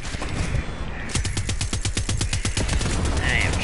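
Rapid bursts of automatic rifle fire from the Far Cry 6 video game, a fast steady rhythm of loud, close shots after about a second of noisier buildup, running without a break to the end.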